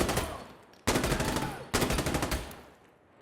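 Gunfire in the video game Insurgency: Sandstorm, three bursts of rapid automatic fire separated by brief gaps, loud and dense with a rattling, repeated crack.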